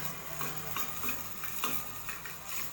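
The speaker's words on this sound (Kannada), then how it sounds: "ಬಟರ್ ಬಿಸಿ ಆಗ್ಬಿಟ್ಟು ಸ್ವಲ್ಪ ಇದರಲ್ಲೇ ಜೀರಿಗೆ ಹಾಕ್ತಾ ಇದ್ದೀನಿ." Cumin seeds sizzling and crackling in hot butter in a pan, a steady close frying hiss with scattered sharp pops and a few light stirring clicks, with no talking.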